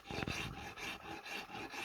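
A wood rasp scrapes rhythmically across a wooden shepherd's crook being carved, a close, gritty filing sound in repeated strokes with no talk.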